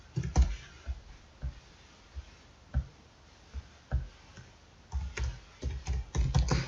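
Fast typing on a computer keyboard while filling in security question answers, irregular bursts of close clicks with a dense flurry near the end, no talking.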